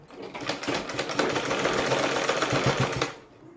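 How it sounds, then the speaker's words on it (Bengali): A sewing machine stitches along a fabric strip on a blouse neckline, whirring steadily and close for about three seconds with a fast rattling rhythm, then winding down to a stop. "এই পট্টির উপর দিয়ে কিন্তু সেলাই করে নিতে হবে"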